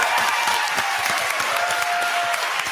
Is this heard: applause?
yes